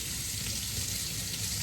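Hot tap water runs steadily into a sink while salted kelp is rinsed, a constant hissing, sizzle-like rush at moderate level with no voices.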